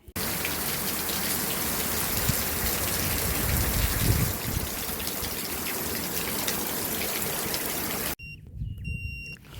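Steady, heavy rain pours down close by for about eight seconds at a groundwater survey site near Keela Vallanadu, Thoothukudi, then cuts off abruptly, leaving a quieter background with faint beeping tones.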